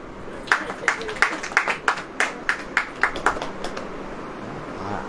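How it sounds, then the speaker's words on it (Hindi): A congregation at a church sermon claps a dozen times in a loose, uneven rhythm. The claps ring out clearly over a hushed room and fade into quiet. "अब ताली बजाओ"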